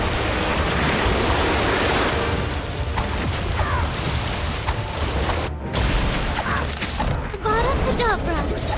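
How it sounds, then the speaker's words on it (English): Orb of Water spell in Harry Potter: Magic Awakened, a continuous loud rushing watery wash like surf, with faint chirping game effects scattered through it and a brief dropout near the end. "Orb of water."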